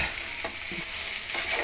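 Eggs frying and sizzling in a pan as they are stirred, a steady close hiss with a few scraping strokes of the spoon and no voices.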